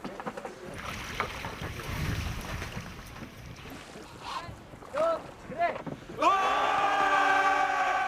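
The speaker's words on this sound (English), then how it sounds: "we seem to have a nice winds, so it should be a nice sail" A replica Viking ship under sail in wind, with gusty rushing wind and water noise, creaking and straining wooden timbers, and a louder surge of wind near the end.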